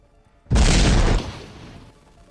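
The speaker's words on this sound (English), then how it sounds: "you press the button, and a bunch of explosions start going off" A loud sound-effect explosion bursts in suddenly, a single heavy boom holding for about half a second before fading into a rumbling tail, with no voices.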